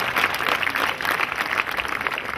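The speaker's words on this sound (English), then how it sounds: "Applaudissez pour Jésus Christ." Congregation applause fills a crusade gathering, a steady dense wash of many hands clapping throughout with no pauses, fairly loud and close.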